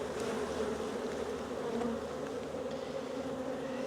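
Honeybees hum steadily from an opened hive without a queen, forming a close, continuous droning buzz with no voices.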